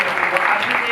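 Loud applause from a church congregation for a daughter: a brief, dense, continuous burst of clapping.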